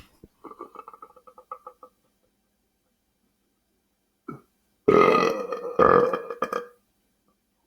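Loud, close belches from someone eating sandwiches and boiled eggs: a short rumbling burp, then two long, forceful ones after a quiet gap, with faint chewing clicks early on.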